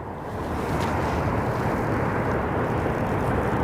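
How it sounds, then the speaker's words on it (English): An ATR 42-500 turboprop airliner at Aberdeen Airport gives off a broad, steady engine roar that swells slightly and holds, loud and continuous with some wind noise and no talk. "that's a ATR 42 500"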